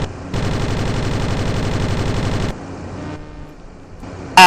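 Sustained machine gun fire from a fighter aircraft in an aerial combat video game, a dense rapid burst lasting about two seconds, then quieter engine drone and a sudden loud noise at the end.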